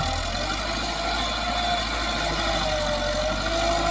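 A Massey Ferguson 385 tractor with a faulty hydraulic system idles close by, its engine holding a steady, even rumble throughout with no voices over it.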